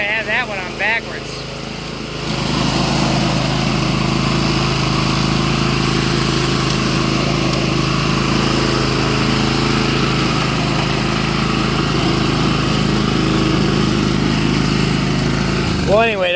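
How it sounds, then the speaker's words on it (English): A Honda self-propelled lawn mower engine starts after about two seconds, then runs at a loud, steady drone for the rest of the clip, with brief bits of other sound at the start and end. "The engine started right up and ran, and the self-propel works."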